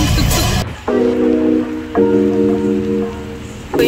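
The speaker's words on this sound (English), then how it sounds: "it's been raining the whole day" Heavy rain pours loudly outdoors in Hat Yai, Thailand, a broad hiss that drops back near the one-second mark as a steady pitched hum, likely a vehicle engine, rises twice in the middle before the rain swells again at the end.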